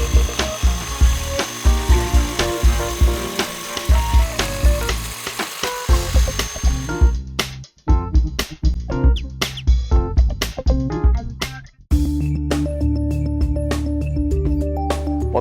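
Hand shears trimming hedge bushes in a winter yard, a run of quick crisp snips and rustling clicks up close, then a denser steady rattling texture toward the end, with no talking.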